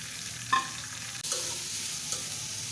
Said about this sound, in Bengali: এই পুরের মধ্যে তেল সামান্য দিয়ে ভেজে নিচ্ছি।